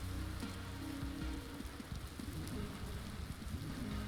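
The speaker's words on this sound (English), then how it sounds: "Is it because it's raining, perhaps?" Rain falls steadily in the video game Vintage Story, a dense, even hiss of drops with low patters underneath, continuous throughout and fairly faint.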